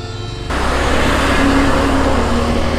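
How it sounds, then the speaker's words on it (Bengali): Buses and other traffic rushing past on a main road on the way from Kolkata, heard from a roadside stop: a sudden loud surge of engine and tyre roar that sets in after a quiet moment and holds steady. "বাবা, বাসগুলো হু করে যাচ্ছে"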